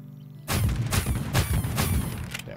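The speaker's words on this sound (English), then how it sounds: "A la shotgun." Several loud, booming shotgun blasts in the AK-Xolotl video game, fired in a quick irregular series of about five shots, each a sharp crack with a rumbling tail, close and dominant.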